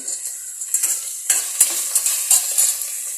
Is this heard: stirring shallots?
yes